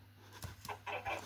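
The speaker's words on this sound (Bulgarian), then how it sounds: "Кокошка" A Minecraft chicken gives a few short, quiet clucks in quick succession, heard alone against a faint low hum.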